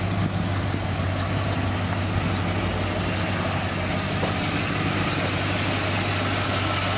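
A Ford XC GXL car engine idles steadily close by, its low, even rumble and throb continuing unbroken throughout with no talk over it.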